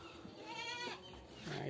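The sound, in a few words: goats bleating while eating calliandra fodder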